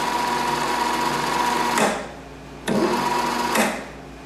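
A 750-watt sewing machine servo motor driving a mini metal lathe by belt whirs with a steady high hum, then cuts out abruptly twice as it stops instantly and restarts, with no talking.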